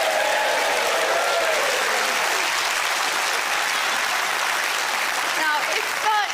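A studio audience claps steadily at a televised IQ test results show, dense, loud and sustained applause filling the room, with a few faint voices and whistles near the end.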